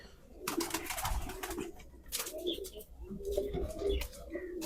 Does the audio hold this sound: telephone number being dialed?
no